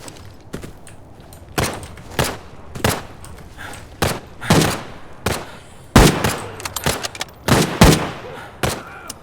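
Gunfire in Arena Breakout Infinite, heard as sharp single shots and short bursts spaced irregularly. Some sound close and loud, others farther off, with an exchange of fire picking up toward the end.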